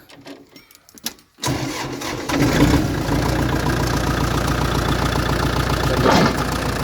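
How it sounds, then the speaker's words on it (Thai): Quiet rustling, then the engine of a 2012 Kubota L4708 tractor starts and settles into a steady, close idle with a rough, continuous rumble. "เรามาฟังเสียงเครื่องยนต์กันนะครับ"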